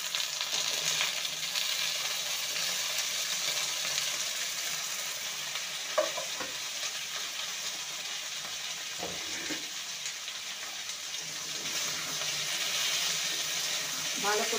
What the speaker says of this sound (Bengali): আলুটাকে 2 মিনিট ভেজে নেওয়ার পর এবার কচুগুলো দিয়ে দেবো।